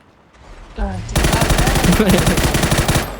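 Loud, close automatic gunfire in the battle royale game PUBG, a fast continuous burst of evenly spaced shots lasting about two seconds, with a voice heard just before it starts.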